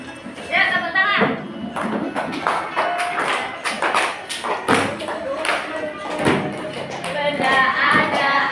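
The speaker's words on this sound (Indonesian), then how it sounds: "tepuk tangan" Schoolchildren in a fourth-grade classroom clap their hands, a busy patter of overlapping claps mixed with chatter and a teacher's voice throughout.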